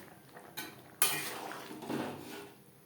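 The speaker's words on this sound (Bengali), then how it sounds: "গ্রেভির সাথে গরম মশলা পাউডার বেশ ভালো করে মিক্সড করে দেব" Spoon stirring garam masala powder into chicken gravy in a metal pot while making chicken biryani, a few clinks and scraping strokes, close and fairly quiet.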